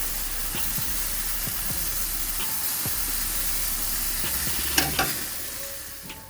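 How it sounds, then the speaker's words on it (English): Thin-cut boneless chicken thighs sizzle and char in a hot pan, a constant loud frying hiss with occasional stirring clatter and a couple of sharp pops near the end. "I let it char this side a little bit."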